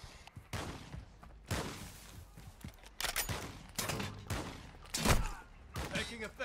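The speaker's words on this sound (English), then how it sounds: "Taking effective fire." Gunfire in the Warzone 2 DMZ video game, a series of loud bursts and shots at irregular intervals mixed with game effects and some talking.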